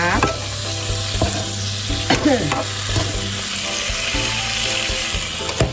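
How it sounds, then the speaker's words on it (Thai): Snow peas coated in red curry paste stir-fry in a hot pan, giving a steady close sizzle broken by scraping and clanking strokes of a spatula. "พริกแกงเคลือบกับผักของเรานะคะ เหมือนที่เคลือบหมูนะคะ"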